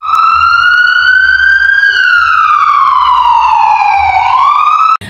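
A toy ambulance truck siren wails loudly and steadily on its own, its tone sliding up and down in a smooth, continuous sweep.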